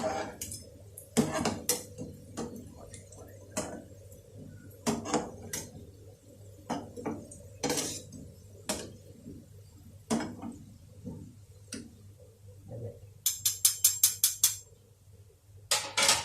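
Gulab jamun being served onto a plate, with a series of sharp clinks and clatters of dishes and spoon against plate, irregular and close, with quiet gaps between and a quick run of rapid taps near the end.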